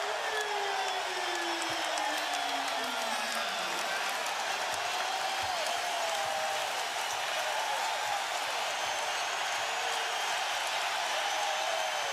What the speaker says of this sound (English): This crowd has absolutely erupted here in the third